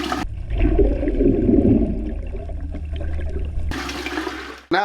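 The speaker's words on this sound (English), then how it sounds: "Then you'll hear the macerator come on." An electric macerator toilet on a boat flushes with a loud rush of water and a motor hum for several seconds, then cuts off before a brief restart.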